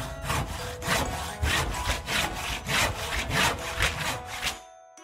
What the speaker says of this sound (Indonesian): Nuh memakai sebuah gergaji untuk memotong kayu.